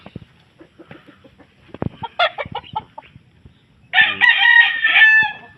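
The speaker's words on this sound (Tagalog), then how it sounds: "Laking manok nito." A six-month-old rooster crows loudly and close by, preceded by scattered clucks and short calls from nearby fowl.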